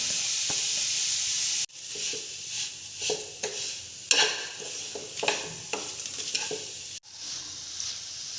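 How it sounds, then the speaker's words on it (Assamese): Sizzling of a coconut ladoo mixture frying in ghee in a wok, with repeated scraping and stirring strokes at an irregular rhythm and a sharp clunk partway through. "মই ভাজিম এতিয়া"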